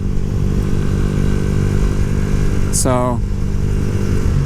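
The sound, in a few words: Yamaha YZF R125 motorcycle engine running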